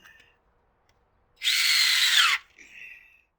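Power drill driving a screw into a C.R. Plastic Products upright Adirondack chair, one loud, close, steady whirring burst of about a second, with faint softer sounds before and after.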